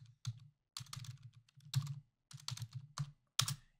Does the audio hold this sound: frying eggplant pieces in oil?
no